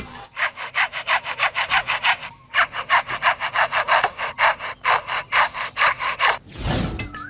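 A lyrebird imitates a hand saw, a rapid series of rasping back-and-forth strokes, loud and close, with one short pause before the rhythmic sawing resumes and a final burst of noise at the end.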